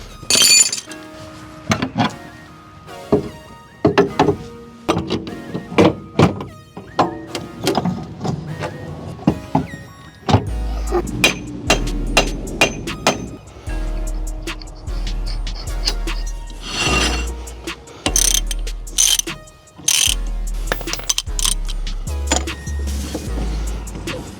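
Old, somewhat rusty CV axles go back into a Honda CB7 as a stream of close metallic clanks, knocks and rattles comes in irregular bursts, with heavier low thuds in the second half.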